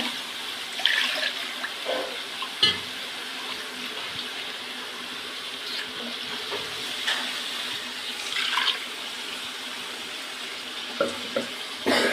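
Water pours steadily into a cooking pot for sambar with a continuous splashing rush, close up, with a few clinks and bubbling sounds along the way.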